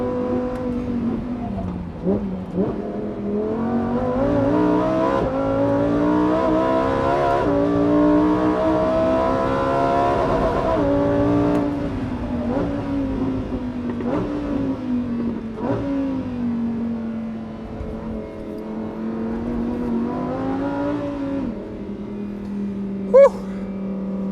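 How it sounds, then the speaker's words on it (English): A high-revving Lamborghini V10 engine screams on the track at Imola, loud and close, its pitch climbing and dropping through repeated gear changes and throttle lifts. "Lamborghini's hardest, fastest, newest V10 car at Imola on a sunny day."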